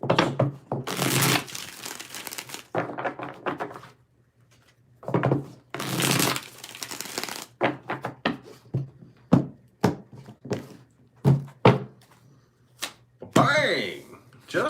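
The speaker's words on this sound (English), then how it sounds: "Let's get 5 shuffles here." Tarot cards are shuffled in a series of bursts, riffles and slaps with pauses in between, close and crisp, while a person talks between the shuffles.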